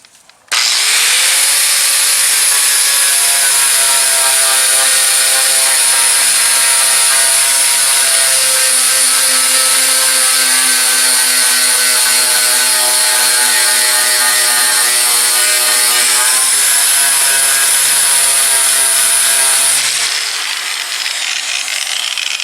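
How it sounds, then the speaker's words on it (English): A flap disc on an angle grinder strips rust from the body of a 1994 car, giving one continuous loud, close high-pitched whine with a brief pitch shift partway through before it spins down at the end. "See, that's a lot quicker doing it with that flap disc."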